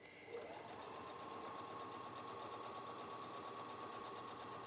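A Brother HF37 sewing machine stitches through four layers of doubled-over fabric, giving a continuous, even mechanical whirr that runs steadily and alone for several seconds.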